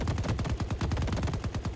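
Continuous rapid automatic gunfire in a video game played at 60 FPS with frame generation, a steady loud stream of closely spaced shots with no pause.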